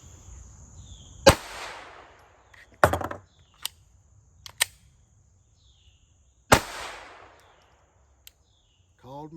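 Pistol shots fired at a target during a beginner reload drill: four sharp, loud, widely spaced reports with ringing decay, plus a few fainter clicks and clanks of magazine handling in between.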